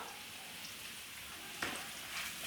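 Sliced onions with salt sauté in a pan for chicken majboos, a soft, faint continuous sizzle with a brief louder crackle near the end as they are stirred.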